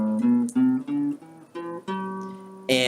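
A musical passage in G Mixolydian mode, played as a string of separate sustained harmonic chords with short breaks between them and a brighter burst at the end, with no voices.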